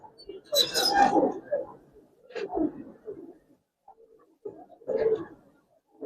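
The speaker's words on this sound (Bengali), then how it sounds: "যারা কালো কালো কবুতর পছন্দ করেন তাদের জন্য এখন কবুতর দেখাবো কিছু।" Giribaz colouring pigeons in a loft coo in several low, throaty bursts separated by short pauses, close and clear, with a voice heard around them.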